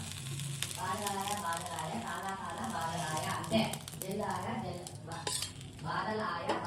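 Pesarattu, a mung bean dosa, sizzles softly in oil on a pan over low flame, with a steady frying hiss, occasional utensil clinks and someone talking over it throughout.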